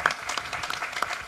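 Applause from an audience at a public event honouring a paediatric oncohaematology ward in Taranto, a short burst of clapping at moderate volume.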